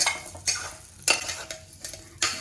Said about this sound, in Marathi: रवा आता आपण लापशीचा रवा त्यामध्ये भाजून घेणार आहोत छान लालसर भाजून घ्यायचा आहे लापशीचा रवा